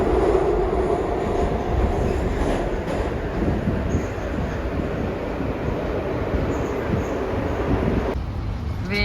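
A Moscow metro train rumbles loudly and continuously, with rolling wheel noise and clatter heard from inside a car, and a faint voice briefly beneath the din.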